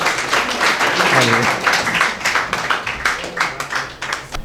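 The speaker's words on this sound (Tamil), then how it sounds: "அவருடைய கைகளை தட்டி கொஞ்சம் அவருக்கு ஆரவாரம் பண்ணுங்க" An audience at an indoor Tamil vastu and astrology gathering claps steadily to welcome a speaker, a dense patter of many hands with a voice briefly rising over it.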